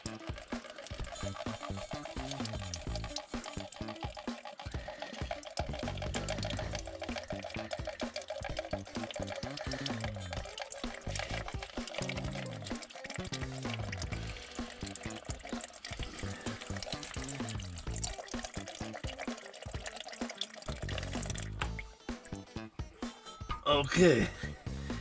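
Water drains out through a valve with a yellow lever in a continuous, mid-level wash of flowing and trickling liquid that runs steadily for the whole stretch, with a few louder splashes and knocks near the end.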